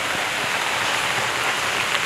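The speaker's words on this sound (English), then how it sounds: "I'm thankful for the rain and the hail." Rain and small hail patter on surfaces in Long Beach, a dense steady hiss with scattered sharper ticks, close and constant.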